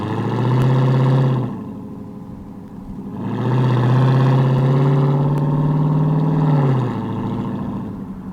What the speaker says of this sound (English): once you kick the throttle down, you're going to kick the back end out no matter what.